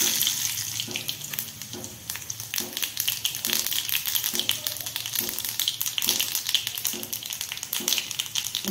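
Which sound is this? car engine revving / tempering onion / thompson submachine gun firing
tempering onion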